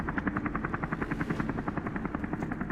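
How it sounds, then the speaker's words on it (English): Helicopter in the video game Deus Ex: Human Revolution, a steady rapid rotor chop pulsing evenly throughout, loud and close with a droning engine beneath. "Loud helicopter."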